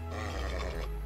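A horse whinnies in the Adventure Time video game, one loud, drawn-out neigh with a shaky, breathy quality, standing alone without talk for about a second.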